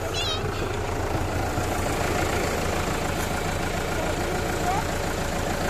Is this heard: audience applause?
no